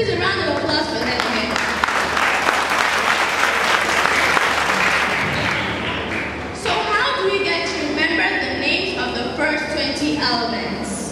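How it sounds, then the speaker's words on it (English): Audience applause fills the room, a dense burst of clapping that runs several seconds, then breaks into scattered, sparser claps as it fades. "Please a round of applause for that."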